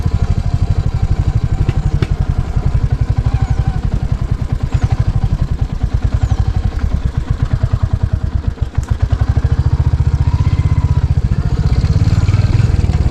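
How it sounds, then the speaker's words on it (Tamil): A pickup truck engine labours hard up a steep hill, giving a steady, loud, rapid chugging throb that holds for the whole stretch with only a brief dip in the middle. "ஒரு பிக்கப் வந்து பார்த்தீங்களா, பயங்கரமான ஒரு மேட்டில் பயங்கரமாக ஏறிட்டுருக்கு"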